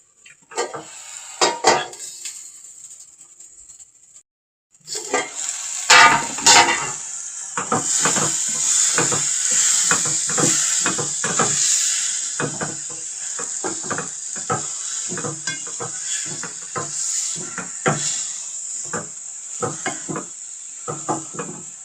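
Tomato and vegetables stirred in a pot at a Kenyan kibanda at night, a loud sizzle starting after a quiet opening with rhythmic utensil scrapes and clinks against the pot, crickets faint in the background.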